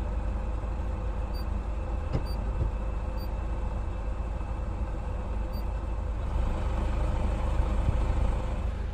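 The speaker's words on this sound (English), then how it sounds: "I've kept my engine running" A van engine idles in a steady low rumble, constant and unchanging, heard alone and without talk.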